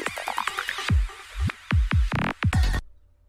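An original electronic track played in Ableton Live pounds out a rapid kick drum fill, punchy booming hits with swirling synth textures over them, building to a dense run of kicks before cutting to silence.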